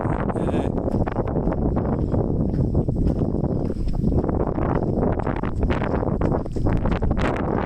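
A wind turbine turns slowly on a wooded hillside at Sliabh Bawn, County Roscommon, Ireland, giving a steady, loud broadband whooshing roar that is mixed with wind buffeting the microphone throughout.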